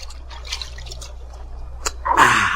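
Soft drips and splashes of water from a stream being scooped up for a drink, ending in a louder burst of splashing and trickling near the listener, with no talk.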